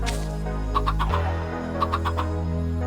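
Clucking from a chicken in the Minecraft video game comes in two short bursts of quick, evenly spaced clucks over a steady background music bed, with no talking.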